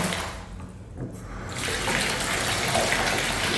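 Water gushes from a waterfall-style bathtub filler faucet into a tub, a full, steady splashing rush that dips briefly before swelling louder and holding strong, close by with no talk.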